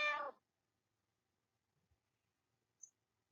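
A single short cat meow at the start, clear and close, followed by near silence with a couple of faint soft ticks and one tiny high chirp.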